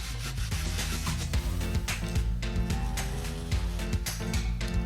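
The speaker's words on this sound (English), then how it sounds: "We're just going to lay it on this gray Scotch-Brite and just do straightforward to back motions" A wristwatch case is rubbed back and forth on a gray Scotch-Brite pad, giving a steady, close scratchy scrubbing with a regular stroke rhythm and no pauses.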